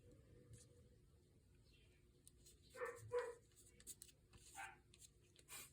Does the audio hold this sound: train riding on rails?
no